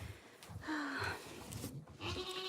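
A goat bleats in a barn during morning milking chores, giving a couple of short, nasal calls close by with rustling in between.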